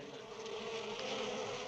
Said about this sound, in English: Listen to the buzzing of their merry little wings.